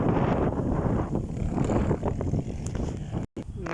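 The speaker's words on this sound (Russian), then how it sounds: "Тут и ветер посерьезнее." Storm wind of about 23 metres per second buffets a microphone in an open field, a loud continuous roar with surging gusts and one brief dropout near the end.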